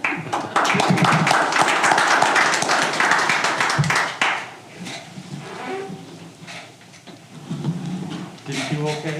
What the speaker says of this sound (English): She clapped for him.